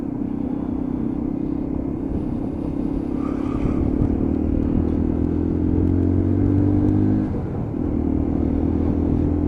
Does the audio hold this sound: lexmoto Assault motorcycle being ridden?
yes